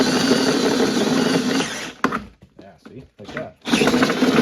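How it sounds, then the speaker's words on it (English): A power drill spins with a loud, continuous whir while work is done on a snowmobile sled. It cuts out midway as a person talks briefly, then revs back up to full speed. "it'll spin the drill"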